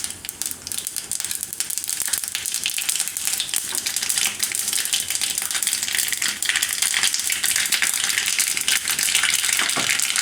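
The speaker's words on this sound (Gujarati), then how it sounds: "તેલ આપણે ગરમ મૂકી દીધું હતું વઘાર માટે તો એમાં આપણે રાઈ નાખીશું" Mustard seeds dropped into hot oil for a Gujarati vaghar tempering, a dense, close, continuous crackle and sizzle of tiny pops that stays loud and steady throughout with no talking.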